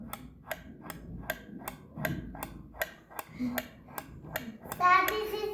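Coins striking the nails of a wooden tik tak board game make a rapid series of sharp, regular ticking clicks, about two per second and fairly close, with a voice and a brief brighter rattle at the end.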